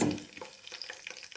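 Mustard seeds in hot oil for a chicken masala, with cardamom, cloves and other spices added, spluttering in quick close crackles that come in short bursts after a brief louder opening hiss.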